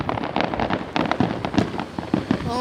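Fireworks burst in a rapid, irregular string of sharp cracks and pops, loud and close, with crackling trails between the bangs and no pause.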